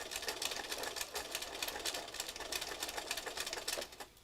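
A sewing machine runs slowly with King Tut thread, stitching around the edge of a collaged piece in a quick, even mechanical patter that pulses steadily throughout, close by but fairly quiet, with no voices.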